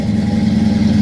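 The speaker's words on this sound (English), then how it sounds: "Cool Flowmaster exhaust sounds really well too." Close, steady idle from a 1955 Chevrolet Bel Air two-door hardtop with a Flowmaster exhaust, a deep throbbing burble holding constant over a short moment with no voices.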